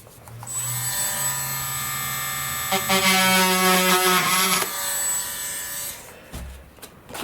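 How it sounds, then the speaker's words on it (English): A small electric drill whines steadily as it bores a hole through the composite skin near a pointy RC sailplane wing tip, its pitch wavering mid-cut before the motor stops and a brief clunk follows. "And I'm going to drill one more hole."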